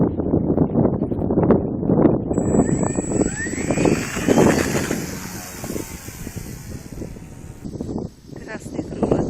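A Loop model airplane from VAmodels passes overhead in strong wind, its motor rising and then falling as it sweeps by, half-buried under heavy, constant wind buffeting.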